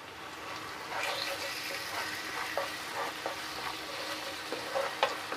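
A paste of garlic cloves, ginger and green chili frying in a pan for a restaurant-style chicken gravy, giving a soft, steady sizzle with scattered clicks and scrapes of stirring.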